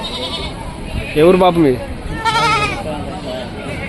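Goats bleat at a busy outdoor livestock market, two loud quavering calls close by, one after the other, over crowd noise, with people talking in the background.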